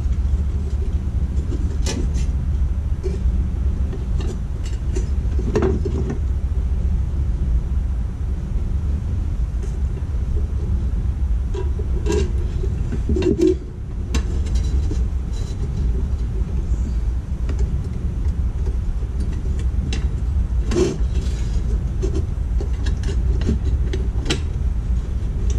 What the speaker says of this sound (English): we've got some nice industrial noise in the background, courtesy of the train that runs through my neighborhood.